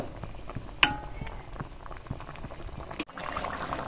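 Poppy seed and melon seed paste gravy for a potato and pointed gourd posto bubbles steadily in a pan, a soft continuous simmer with a brief sharp clink near the start.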